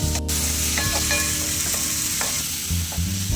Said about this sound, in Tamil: இஞ்சி கொண்டு வந்து ஒரு மூணு நிமிஷம் வதங்கிடுச்சு கை விடாமல் வதக்கிக்கோங்க